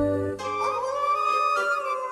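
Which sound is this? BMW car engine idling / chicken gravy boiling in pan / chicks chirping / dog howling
dog howling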